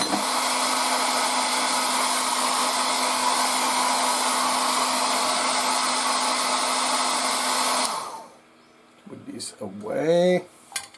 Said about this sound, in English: so just a little air dryer here.